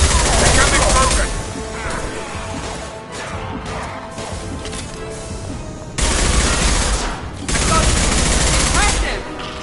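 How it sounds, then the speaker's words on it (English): Sustained heavy gunfire from a Mass Effect Legendary Edition firefight, with dense loud bursts that ease in the middle and then return at full force, and a voice speaking over the shooting. "Taking heavy fire!"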